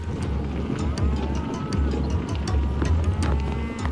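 Cattle on a ranch in Brazil's Pantanal low repeatedly over a steady outdoor rumble, the moos sounding close and fairly loud without any talk.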